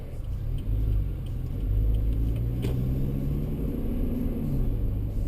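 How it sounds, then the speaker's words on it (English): A 2011 Toyota Fortuner Sportivo SUV with a 158 horsepower 2.7 litre petrol engine drives on city streets in Kuala Lumpur, giving a steady low engine rumble and road drone from inside the cabin, with slight rises in revs. "Now we're going to test drive the Toyota Fortuner onto KL streets and see how it performs."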